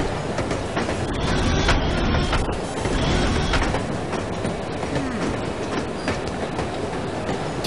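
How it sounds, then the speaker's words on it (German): A train rumbles past in the spy video game No One Lives Forever, a steady loud clattering of wheels and cars with mechanical rattles, continuous for several seconds and without talk. "Was ist denn das für ein Zug?"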